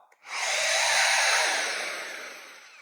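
A corded CAT hammer drill revs up sharply and runs at a loud, steady high-pitched whine for a couple of seconds before easing off slightly.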